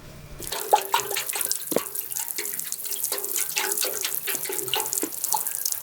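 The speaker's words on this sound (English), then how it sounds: "Now we've got to water them all." Water splashing steadily onto freshly sown seeds in trays, a continuous close spray with small drips and patters, no talking.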